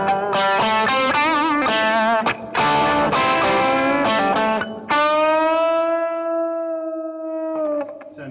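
An electric guitar through a Valeton OD-10 overdrive pedal, heavily distorted, plays quick riffs and chords, then rings out on a long sustained note that slowly fades.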